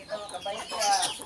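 Kept chickens in a bird enclosure give a short burst of close clucking, with faint voices in the background.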